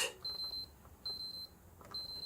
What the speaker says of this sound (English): the eject button just beeps